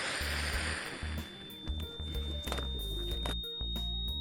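Ice melting in water gives off a faint, sustained high-pitched whine that rises slowly, with soft crackles, pops and fizzing underneath.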